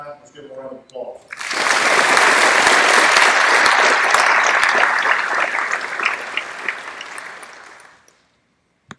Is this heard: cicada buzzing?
no